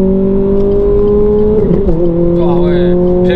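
A Renault Clio 3 RS engine drones steadily, then its pitch dips sharply through a quick gear change before settling into a lower hum, heard loud and close from inside the car.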